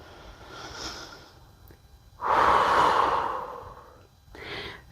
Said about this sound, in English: And we're going to breathe here.